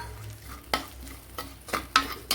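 Garlic cloves, a small piece of ginger and shallots frying in oil for a sardine curry, with a low sizzle under repeated spoon stirring and clinks against the pan, close by and with no voices.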